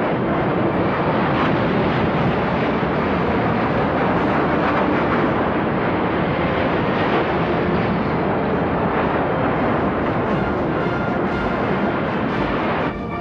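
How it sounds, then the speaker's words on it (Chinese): A formation of twelve long-range heavy jet fighters flying over Tiananmen, a continuous loud broadband roar of jet engines that holds steady and fills the whole stretch without letting up. "正在飞过天安门上空的是人民空军新型远程歼击机编队，由十二架飞机编成。"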